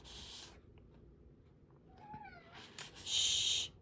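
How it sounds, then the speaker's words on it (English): A pet cat gives a faint, short meow near a window, sitting among quiet room sounds and brief hissing bursts. "Shh, that's my cat."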